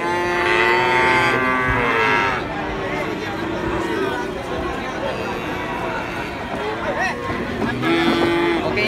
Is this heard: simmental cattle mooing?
yes